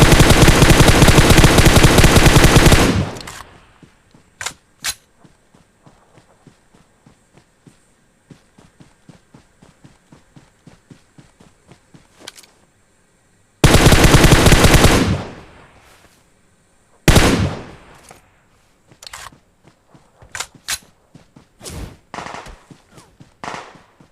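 Gunfire in the mobile battle royale game PUBG Mobile on the Livik map, with two long loud bursts of rapid automatic fire separated by quieter single shots and clicking footsteps, ending in several sharp scattered shots.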